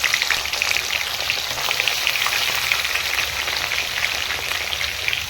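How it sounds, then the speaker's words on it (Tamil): Onion fries in hot oil and ghee for jackfruit biryani, a loud, even, close sizzle with a rain-like crackle and faint stirring, holding steady the whole time without talk. "இப்போ நம்ம வெங்காயம் சேர்த்துக்கலாம்."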